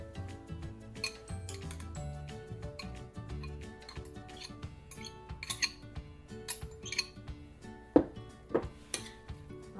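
Chopped vegetables being mixed into lime-marinated fish for ceviche, giving soft wet stirring with scattered clinks and taps of a utensil against a bowl, close and fairly quiet with no talking.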